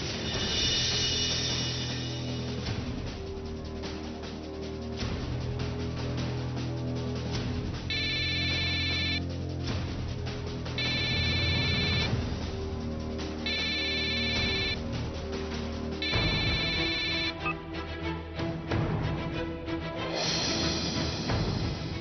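A telephone ringtone sounds in repeated short bursts over background music in a Marathi TV drama scene, moderately loud with no talking.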